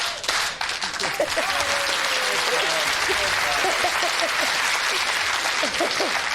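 Steady applause from a television quiz show studio audience fills the whole stretch, dense and loud, with a few voices faintly audible underneath.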